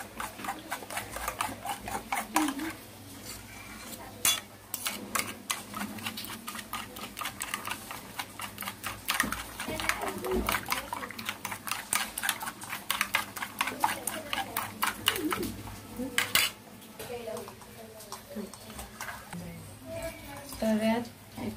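A utensil rapidly beats omelette batter of eggs and salt in a bowl at a Khandesh street food stall, a fast irregular clicking and tapping that runs steadily for about twenty seconds, with a voice talking in places.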